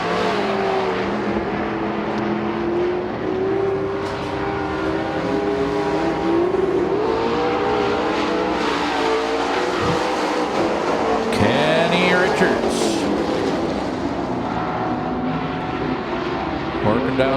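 Race cars lapping a speedway oval, engines droning loud and continuous with rising and falling pitch as cars pass, under a race announcer's voice calling the action.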